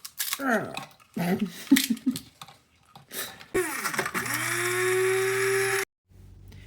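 Dried morel mushrooms being ground into powder, starting with a few short taps and rattles, then a loud, steady high-pitched grinder whir for about two seconds that stops abruptly.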